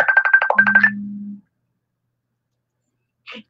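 A phone ringtone for an incoming call: a loud, rhythmic burst of rapid electronic tones followed by a brief low sustained tone, then silence and a short faint blip near the end.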